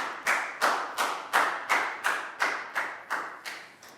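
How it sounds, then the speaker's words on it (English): A class of children claps in unison for a classmate, about eleven sharp, evenly spaced claps in a steady rhythm, close and clear with no talking. "big round of applause for Dan."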